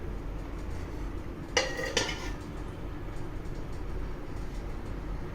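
The metal lid of a steamer pot is lifted after steaming modak dumplings, producing two brief close clanks against the rim over a steady low background hum.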